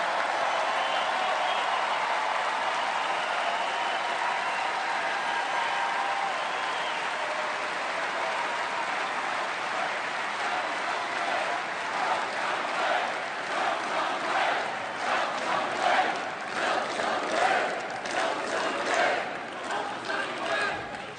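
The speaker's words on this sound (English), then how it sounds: "it is so nice to hear you cheering for what I just said." A large rally crowd cheers and applauds a political speech, a dense sustained roar of clapping and voices that swells and grows more intense in the second half.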